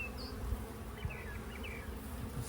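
Honeybees buzz around an opened hive during a spring hive inspection, a close, continuous droning hum with individual bees swooping past, plus a couple of faint knocks.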